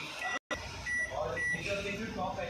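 A few short electronic beeps from a convection microwave oven keypad ring out as a 10-minute timer is set, while a person talks over them.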